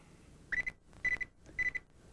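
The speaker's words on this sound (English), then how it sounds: "That's your phone." An electronic phone rings in short double-chirp bursts, four evenly spaced rings in quick succession, clear and fairly close over a quiet background.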